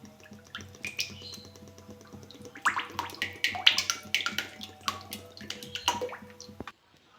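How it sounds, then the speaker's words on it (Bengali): White cooking oil is poured into a heated wok on a gas stove before frying maida nimki, heard as close wet trickling and gurgling splashes in uneven bursts that stop abruptly near the end. "আমি এবার সাদা তেল দিয়ে দেবো।"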